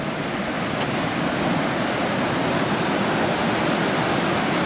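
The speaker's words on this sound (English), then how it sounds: "there's the creek right there" Creek water flowing beside a walkway at night, a continuous dense rushing wash that stays even and fairly loud throughout with no voices.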